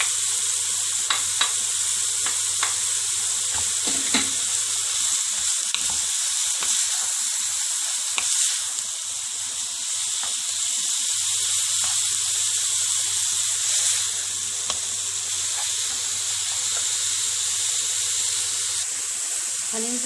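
Minced onions frying in a pan with minced meat, a steady bright sizzle and hiss with occasional stirring scrapes, close and continuous.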